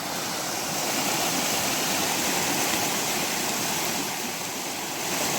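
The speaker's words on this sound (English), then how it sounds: "Another water crossing. Water's flowing pretty good." A creek crossing on the Appalachian Trail, with water flowing strongly in a continuous, broadband rushing roar that holds steady and close throughout, with no voices.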